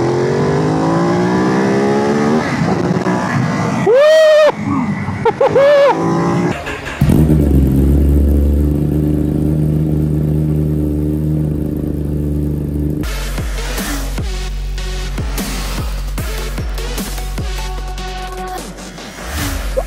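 A Ducati Monster 937 motorcycle engine revs in sharp rising bursts, then idles with a deep, steady throb before a series of quick throttle blips, heard close and loud.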